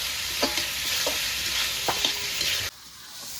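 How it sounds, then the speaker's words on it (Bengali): Chopped tomato with spices sautéing in a pan for chicken chowmein, a steady broad sizzle with several scraping stirs of a spatula, close and alone, cutting off abruptly near the end. "টমেটোটা দিয়ে দিয়েছি আর একটু ভালো করে কষিয়ে নেব টমেটো দিয়ে"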